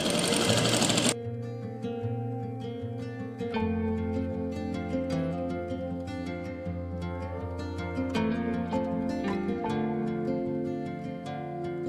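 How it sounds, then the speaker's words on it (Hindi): A sewing machine runs yellow thread through folded dupatta lace, giving a steady continuous mechanical hum with a faint rhythmic stitching pulse throughout, alone with no talking. "ये कपड़ा जो हमने फ़ोल्ड किया है ये वाला, तो इस पे आपने येलो धागे से ही सिलाई लगा देनी है"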